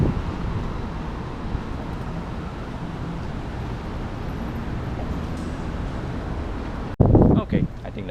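Steady outdoor wind buffets the microphone as a low continuous rumble under dark clouds, with a sudden louder gust or knock near the end.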